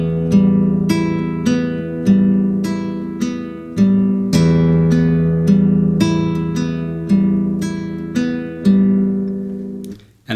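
A classical guitar plays the steady fingerpicked arpeggio pattern of Spanish Romance, thumb bass notes under repeating treble plucks in an even triplet flow, close and solo with ringing notes and no talking.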